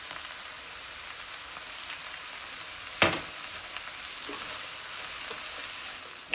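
Cabbage and sausage fry in a pot with a steady, quiet sizzle, broken midway by a single sharp scrape or knock of the stirring spoon, then a few softer stirring sounds.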